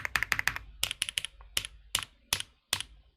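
Mechanical keyboard keys bottom out on a Bluetooth hotswap PCB, with about a dozen close, crisp clacks, each carrying a slight low thump. A quick burst of strokes comes first, then slower, evenly spaced presses.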